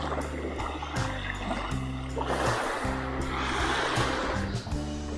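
Sea waves washing onto a seaside shore, a rolling rush of surf that swells and fades over several seconds, close and fairly loud, with no voices over it.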